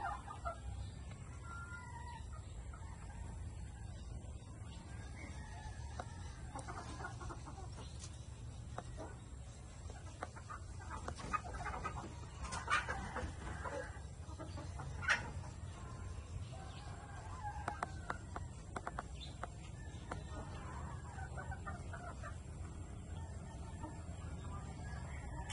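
Sweater gamefowl hens cluck softly in a yard, with a rooster crowing at a distance and scattered bird calls over a steady low rumble of background noise, with no talking.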